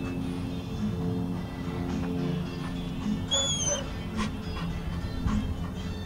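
Faint dog whimpers and soft whines during an obedience training session, short high cries rising over a steady low background hum with some movement noise.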